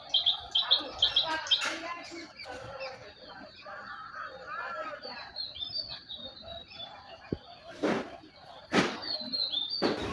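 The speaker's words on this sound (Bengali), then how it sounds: "আশেপাশে বন্ধুরা পাখির ডাক শুনেছো?" Small birds chirp and tweet around a village pond in Bikrampur, Munshiganj, with overlapping calls, a few sharp louder bursts near the end and faint fowl-like clucks in the background.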